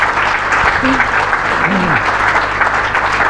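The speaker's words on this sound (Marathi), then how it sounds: "जोरात टाळ्या झाल्या पाहिजेत." A church congregation applauds loudly, a dense steady wash of clapping with a voice briefly rising over it.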